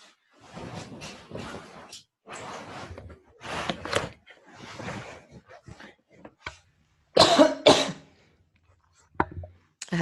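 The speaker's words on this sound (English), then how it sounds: "I have this terrible habit of getting a tickly cough when I'm doing these webinars." A woman's repeated throat-clearing coughs and sharp breaths during a calm webinar, several separate bursts close to the microphone with silent gaps between them.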